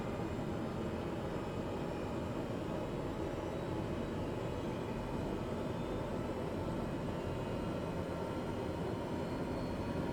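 Aircraft turbine engine in Microsoft Flight Simulator running up after start during a safari bush flight over the Okavango Delta, a steady broadband roar holding at even loudness throughout, no voices.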